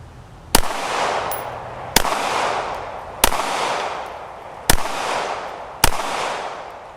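Five loud, sharp pistol shots from a Ruger RXM fitted with a Viridian RFX15 green dot sight, spaced about a second apart at a shooting range, each crack followed by a long decaying echo.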